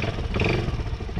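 A Kayo Bull 150 ATV's small engine is given gas, a close, rough mid-pitched growl with clattering that holds steady for about a second.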